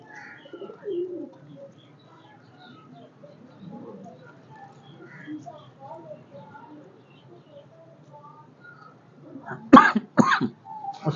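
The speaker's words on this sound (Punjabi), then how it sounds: "ਇੱਕ ਹੋਰ ਕਬੂਤਰ ਕਾਲਾ ਚੀਨਾ।" Pigeons coo softly and intermittently at a pigeon loft, low murmuring calls through most of the stretch, followed by a few louder sharp bursts near the end.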